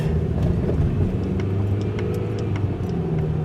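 A 2000 Toyota Camry with a 2.2-liter four-cylinder engine and freshly fixed exhaust drives on a test drive, giving a steady, continuous low engine and road drone with faint light ticking above it.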